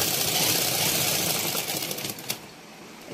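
A sewing machine stitching cloth for a drawstring casing whirs in a fast, even mechanical chatter close by, slowing and fading in the last second with a small clack as it stops.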